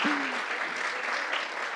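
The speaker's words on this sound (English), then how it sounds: "give her a round of applause" Applause from a women's group audience for a member honored for her year of hiking, steady crowd clapping at a modest level after a brief voice at the start.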